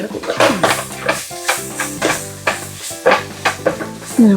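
Onions sizzle in a hot pan for a liver curry while a spoon stirs them in repeated scraping strokes. A voice talks over the frying.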